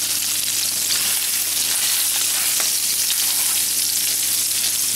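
Potatoes sizzling on a plate with a little water at the bottom, a loud, steady crackling fry hiss that continues throughout, with no voices.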